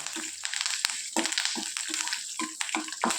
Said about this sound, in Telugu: ఎండుమిరపకాయలు అలాగే కరివేపాకు ఇవి వేసి బాగా వేయించుకోవాలి